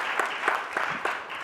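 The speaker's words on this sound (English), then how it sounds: "give him a round of applause" An audience claps for the fourth finalist at a sustainability event, a thin, uneven patter from a modest crowd with a handful of distinct louder claps spaced through the brief burst.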